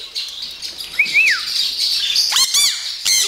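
A pet bird gives loud, close squawks and rising-falling chirps indoors, with a sliding whistle-like call followed by several harsh bursts, alone without talk.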